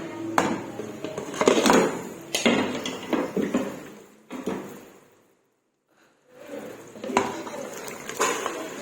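Clattering metal kitchen sounds as a pressure cooker lid is taken off after cooking beef with ridge gourd, a few close knocks and scrapes, a short quiet gap, then more handling noise.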